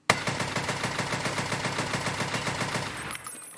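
An RSASS rifle in Escape From Tarkov fires in a rapid, steady stream of loud, near shots for about three seconds, each crack evenly spaced, then stops abruptly with a faint tail.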